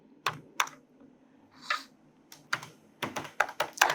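Typing on a computer keyboard: separate crisp keystrokes, sparse at first and then speeding into a faster cluster, close up with no voices.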